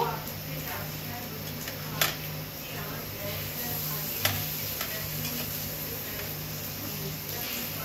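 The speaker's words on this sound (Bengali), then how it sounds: "পেঁয়াজ রসুন দিয়ে এটা ফ্রাই করছি" Fish cutlet filling with onion and garlic frying in a pan, a steady soft sizzle with a low hum and a couple of sharp utensil taps, faint and continuous.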